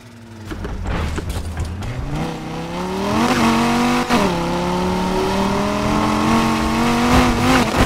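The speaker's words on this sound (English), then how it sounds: "Puts me back behind the wheel on my Viper." A Dodge Viper engine in Need for Speed Heat revs and climbs steadily through the gears, loud and continuous, with rising and falling pitch at each shift and no talk over it.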